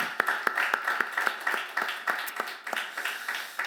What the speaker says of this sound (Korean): 우리 또 한번 박수로 한번 감사의 박수를 드립시다